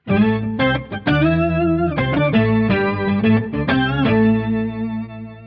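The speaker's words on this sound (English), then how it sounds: "And then some style of organ sound." An electric guitar plays chords through a thick organ-like POG octave effect into a Kemper Profiler, octaves louder than the dry signal, notes sustaining and changing in a loose rhythm, fairly loud with no talking.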